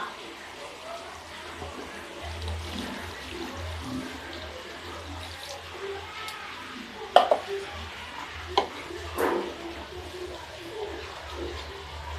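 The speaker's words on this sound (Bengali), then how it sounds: "মাংস কষানো হয়ে গেছে এবার দিয়ে দেবো আমি পরিমাণ মতো জল" Water poured into a pot of braised country chicken curry, a steady rushing pour with a few sharper splashes and sizzles near the end, close and moderately loud.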